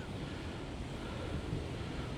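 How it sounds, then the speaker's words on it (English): Strong wind, gusting around 35 mph, roars and buffets the microphone on an open fishing spot, a dense broadband rush with no pauses and no voices. "I'm going to try and face the wind to my back so that hopefully you guys can hear me, because it is really blowing."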